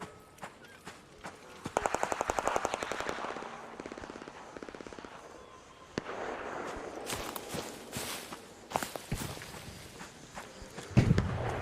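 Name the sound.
gunfire in a video game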